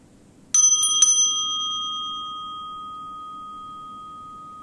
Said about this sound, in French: vous allez entendre sonner la cloche.